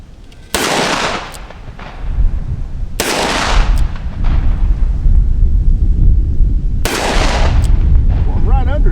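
Three sharp, loud shots from a Ruger Security Six revolver fired at a steel plate, spaced a few seconds apart, each a hard crack with a short echo over outdoor wind noise.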